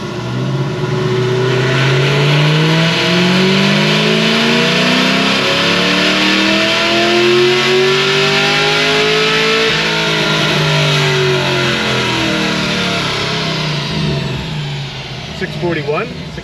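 A Whipple-supercharged Chevy SS engine revs hard on a dyno pull, its loud close roar climbing steadily in pitch through the run before easing off and fading near the end.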